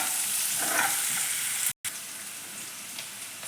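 Chopped onion frying in a pan until reddish, a steady close sizzle and crackle that cuts out for an instant midway and then resumes just as before.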